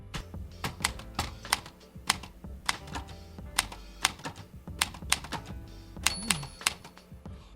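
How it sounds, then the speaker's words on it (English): Close, crisp clacks of typewriter keys struck in an uneven rhythm, ending with a small bell ding near the end. "Chris, can you type on this one to the bell for us?"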